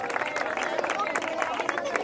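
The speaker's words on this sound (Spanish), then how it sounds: "¡Que suene fuerte el aplauso!" Crowd applause at a swimming club award ceremony in Andalusia, a steady patter of many hands over a background murmur of voices.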